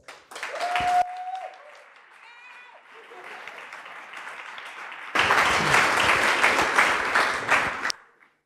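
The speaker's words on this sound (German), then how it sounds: "einen herzlichen Applaus" A crowd breaks into loud, sustained applause after a brief burst of cheering and murmuring, the clapping dense and close before cutting off.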